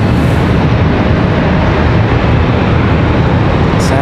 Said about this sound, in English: Lufthansa on the way.